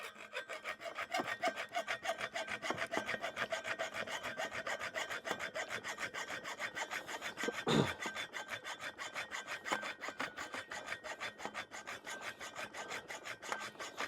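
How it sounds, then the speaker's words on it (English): A hacksaw rasps back and forth through a mounting bracket for pipes in quick, even strokes, close and fairly loud, with one sharper scrape partway through and no talking. "I can use the hacksaw for the rest,"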